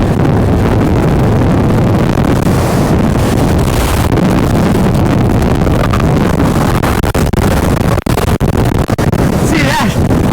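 Heavy wind roars and buffets the microphone at a hilltop viewpoint in Malico, Pangasinan, as a loud, constant rumbling blast that fills the whole clip, with a voice faintly audible beneath it.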